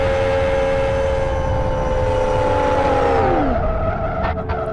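A race car spinning out in a racing video game, its engine holding a loud steady whine before the pitch drops sharply as the car slides around, ending with a few short clunks.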